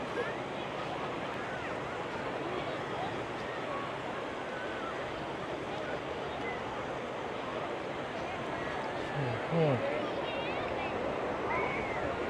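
Waves wash onto Nam Sai Beach in Sattahip, Chonburi, a steady broad rushing surf mixed with wind noise, with people talking softly beneath it.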